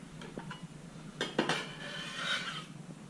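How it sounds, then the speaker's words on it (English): Egg and cheese mixture for carbonara being whisked in a bowl, with light scraping and a few metallic clinks of utensil on dish, close and soft and without talk. "So we're going to mix this egg and cheese mixture, just get that homogeneous."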